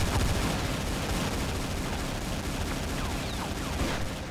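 Modded guns fire extra bullets in the video game Doom, making a dense, continuous barrage of overlapping shots and blasts that stays loud and steady throughout with no pauses.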